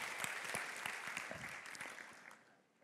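Warm audience applause greets author and debater Martin Ingvar at a talk on the brain under long-term stress, a dense steady clapping that carries throughout and fades slightly toward the end.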